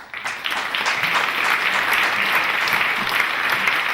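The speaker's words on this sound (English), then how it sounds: "sufficient reason for a round of applause" An audience at a conference breaks into applause, a dense steady wash of many hands clapping that swells quickly and holds at full strength, with no speech over it.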